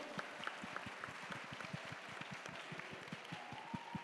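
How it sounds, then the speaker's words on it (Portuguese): An audience at the Senac Rio Summit, a conference event in Rio, claps in a steady stream of many hand claps, moderately loud and continuous for the whole stretch, with no speech over it. "uma salva de palmas,"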